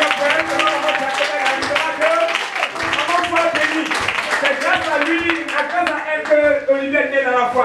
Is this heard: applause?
yes